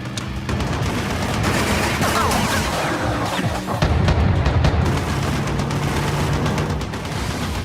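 Rapid, continuous gunfire from car-mounted weapons in the Death Race video game, loud and dense bursts with booming impacts layered over a constant engine roar.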